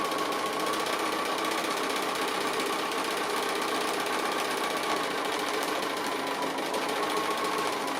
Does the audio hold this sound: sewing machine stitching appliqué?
yes